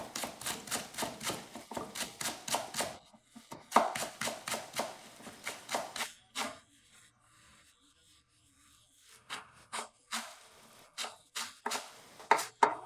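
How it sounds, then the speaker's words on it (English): A knife finely chops 50 grams of chives on a board, making quick, even taps in bursts, then sparse, softer chops after a quiet pause. "take 50 grams of chives and chop them finely"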